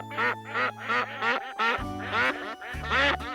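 Ducks quack on the River Yonne, a run of loud, close nasal calls in quick bursts, sometimes overlapping, with brief pauses between.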